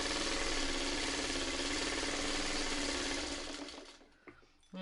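A sewing machine runs at a fast, even stitching rhythm while quilting a burrito tote bag, then slows and stops near the end with a couple of small clicks.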